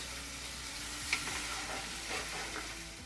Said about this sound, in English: And then saute for another minute.